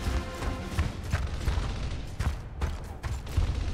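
Scattered gunshots from a non-player character fire in Gears of War Ultimate Edition, irregular sharp cracks and thuds over a busy battle background, moderately loud without speech.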